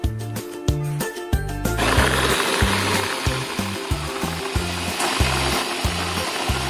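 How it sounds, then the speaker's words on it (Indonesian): An electric blender grinds chilies and spices with a splash of broth for a spicy Indonesian beef stir-fry, starting with a few knocks and clatters before a steady, loud whirring grind runs on continuously. "blender sampai halus ya temanku"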